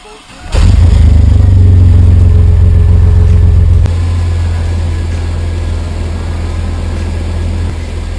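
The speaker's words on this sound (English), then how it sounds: "the first thing we are going to want to do while checking transmission fluid is start up the vehicle" An older car engine starts with a sudden loud crank-and-catch, then settles into a steady, close idle that drops slightly in level after a few seconds and keeps running.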